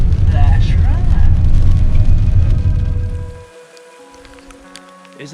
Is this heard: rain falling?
yes